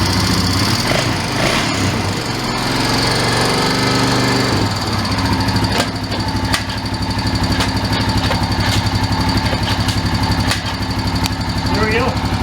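Honda TRX350 ATV engine starting and then running with a loud, close, rapid putter and steady idle throughout, with talking underneath.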